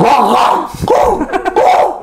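A voice mimics a dog barking, giving a few loud, close yelping barks and whimper-like sounds in quick succession, with no actual dog present.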